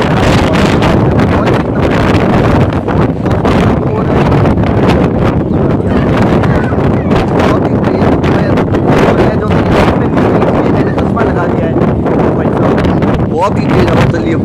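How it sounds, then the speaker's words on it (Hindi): Strong storm wind in a village buffets the microphone in continuous loud roaring gusts and rumbling blasts, with dust blowing, throughout the whole stretch; a voice is partly buried under the wind. "इतनी तेज हवा चल रही है कि ये चश्मा पता नहीं कहाँ जाना चाहता है"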